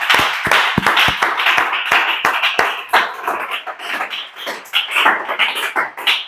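A church congregation in a French-language service applauding in praise of the Lord, loud close hand-clapping, at first crisp and spaced, then building into dense overlapping applause with some cheering.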